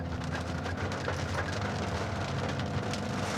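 Steady rain drumming on the roof of a Toyota Veloz Hybrid, dense and continuous, with a faint low engine hum underneath.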